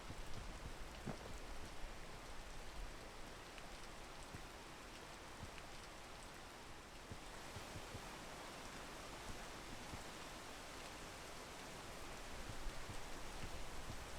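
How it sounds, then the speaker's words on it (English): Steady rain in the video game PEAK pours down, a dense, even hiss of drops hitting surfaces, with a slight swell in intensity near the end. No voices. "Not while it's raining."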